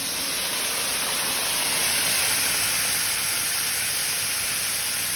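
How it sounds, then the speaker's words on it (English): White wine poured into a hot pan of prawns and zucchini, giving a steady loud hissing sizzle of liquid boiling off that holds evenly without a break. "And we're going to add the white wine now."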